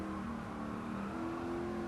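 A 1971 Ford Mustang Mach 1 V8 accelerating with the throttle floored in Gran Turismo 7: a steady, loud, continuous engine drone with a slowly rising tone, heard alone without talk.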